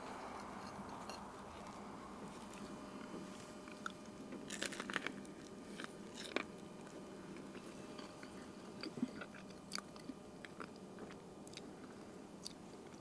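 Crunchy bites and chewing of a homemade breakfast crunch wrap, faint and close, with irregular crisp crackles spread over a quiet background and no talking.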